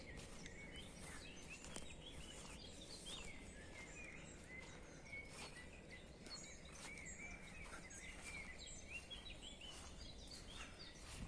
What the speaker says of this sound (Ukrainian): Ось, послухайте ви щебет пташиний.